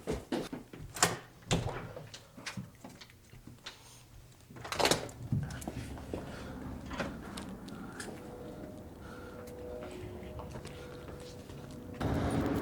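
A door opens and shuts with several sharp knocks and thuds early on, then a steady outdoor rumble on a very cold winter morning as a runner heads out.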